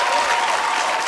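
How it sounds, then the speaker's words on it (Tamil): Loud, sustained applause from a studio audience for young dancers at a junior dance competition, steady and dense throughout without a break. "பலத்த கைத்தட்டு கொடுங்க."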